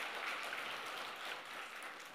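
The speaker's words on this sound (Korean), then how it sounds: "우리 목사님께 다시 한번 뜨거운 감사의 박수를 이어드리시기 바랍니다" An audience at a Korean church retreat lecture claps for the pastor, a steady, even wash of applause that stays faint and distant throughout.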